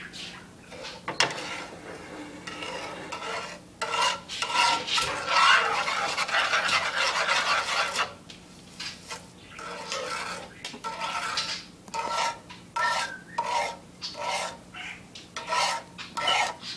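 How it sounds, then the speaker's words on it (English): A large spoon stirs homemade wax in a pot, giving steady scraping and rasping strokes that run continuously at moderate loudness, then break into a series of short, separate scrapes toward the end. "you need a large spoon to stir it"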